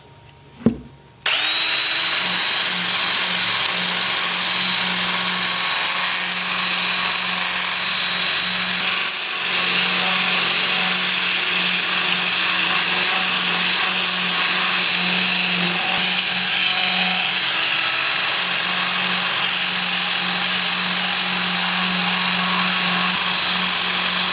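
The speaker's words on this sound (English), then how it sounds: "I will switch to my 2-inch disc sander with 80 grit and sand the inside" A 2-inch disc sander with 80 grit sands the inside of a turned wooden piece, a loud, continuous whirring motor hum with gritty abrasive rasping that runs unbroken for over twenty seconds after a brief click.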